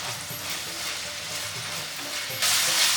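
Vegetables fry in oil in a pan for aloo kachori, a steady close sizzle with light stirring that swells louder in the final half second.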